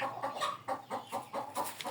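Chickens clucking in a steady run of short, repeated calls, fairly close and moderately loud, with no talking.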